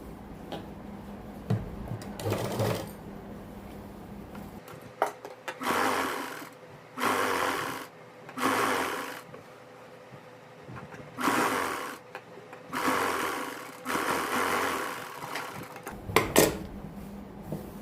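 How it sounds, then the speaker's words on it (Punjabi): A sewing machine stitches buckram onto a salwar hem in a run of short whirring bursts separated by brief pauses, close and clear with no speech. "ਆਪਾਂ ਉੱਪਰ ਸਿਲਾਈ ਲਾ ਦੇਣੀ ਹੈ ਇਸ ਤਰੀਕੇ ਨਾਲ"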